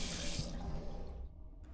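Water runs from a tap into the toilet sink of a first-class overnight train between Oslo and Trondheim, Norway: a loud, steady gush for about half a second, then a softer trickle that fades away.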